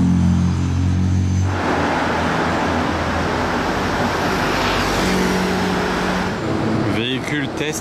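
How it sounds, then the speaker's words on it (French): A new-phase Porsche Cayenne test vehicle drives past on a street in Monaco, its engine rumble swelling and fading as it passes close by, with people talking over it. "Véhicule test Porsche sur un Cayenne nouvelle phase, on dirait, regardez derrière."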